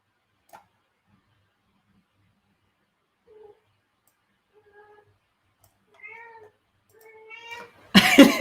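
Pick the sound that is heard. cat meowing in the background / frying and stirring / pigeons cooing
cat meowing in the background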